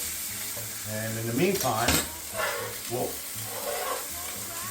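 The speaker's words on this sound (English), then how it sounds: "we're going to put this in, we're going to sear this. Nice and brown." A baby rack of lamb sears in a hot pan with a continuous sizzle, while someone talks over it and several brief crackling spurts rise above the frying.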